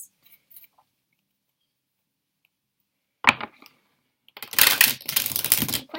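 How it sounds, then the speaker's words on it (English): Tarot cards being shuffled by hand at close range, a brief riffle followed by a longer, dense burst of papery shuffling, with no talking. "All right, let's shuffle these cards."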